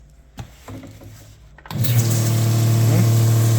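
A motor starts and runs steadily behind a Lechler IDK120-025 air-injector spray nozzle, rising suddenly from quiet into a loud, constant hum with a broadband hiss of spraying that holds to the end.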